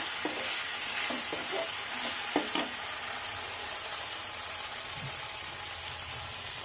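Hilsa fish head with turmeric and a little sugar is stirred in a sizzling pan, before the cabbage goes in. A steady fry hiss runs under a cluster of scraping and tapping stirs near the start, and no one talks.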